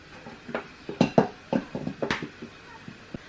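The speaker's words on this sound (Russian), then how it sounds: "Сейчас с сиропом баурсак перемешиваем." A spoon scrapes and knocks against a pot while Tatar baursak is stirred with syrup, giving a close, uneven series of clinks and thuds with short pauses between strokes.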